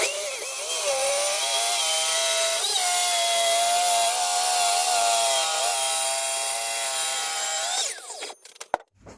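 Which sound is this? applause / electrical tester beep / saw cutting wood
saw cutting wood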